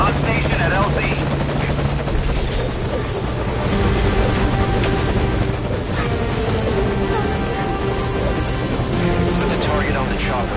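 A helicopter in the Metal Gear Solid V: Ground Zeroes video game thrums steadily and loudly with a constant rotor drone throughout, while radio-style voices speak over it.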